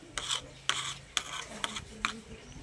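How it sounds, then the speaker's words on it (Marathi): An upside-down screwdriver is worked around inside a glass, producing about five distinct rasping, grinding strokes at an uneven rhythm, close and fairly loud, with no talking. "उलट्या स्क्रूड्रायव्हरने हलवा तो ग्लास"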